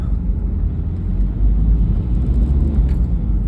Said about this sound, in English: I'm driving into my home village now